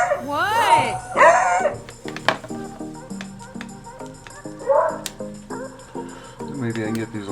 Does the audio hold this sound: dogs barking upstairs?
yes